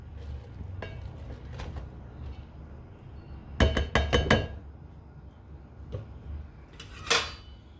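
A metal spoon clinks against a cooking pot while jaggery rice with half-boiled rice is stirred: a few scattered taps, then a quick cluster of four or five sharp clinks, and a final bright scrape near the end.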